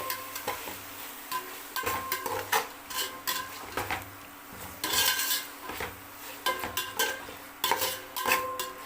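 Tomatoes being stirred into onions frying in a pan while cooking chicken biryani: a spoon scrapes and clatters against the metal in an uneven rhythm of repeated knocks and scrapes over a soft sizzle, close and alone with no speech.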